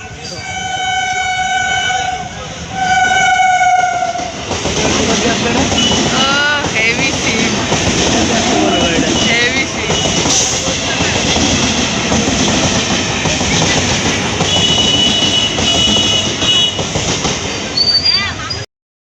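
A train rolls past a level crossing, opening with a loud multi-tone horn and then giving way to a long, steady rumble and clatter of wagons passing close by, with people talking over it.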